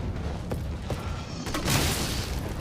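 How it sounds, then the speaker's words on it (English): In the VR version of the video game Resident Evil 3 Remake, a grenade launcher thumps out a shot followed by a broad, rumbling blast, with a few softer booms around it over noisy game ambience. "The grenade launcher fires very slowly."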